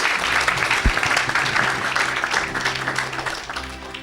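A congregation at a church service applauds, a dense steady wash of clapping that runs through the whole stretch and fades slightly toward the end, with faint voices mixed in.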